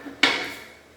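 A single sharp metallic clank as a hitch pin drops into a tractor's quick-attach front bucket receiver, followed by a short ringing decay.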